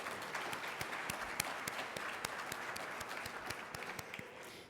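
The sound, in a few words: graduating class applause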